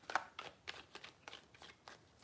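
Tarot cards shuffled by hand in a steady rhythm, about eight crisp riffling bursts spaced evenly, close and clear with no talking.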